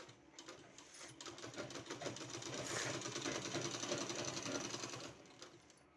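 A sewing machine runs steadily while stitching a sleeve, a fast even mechanical whir with rapid needle ticks lasting throughout, close and fairly quiet, with no talking.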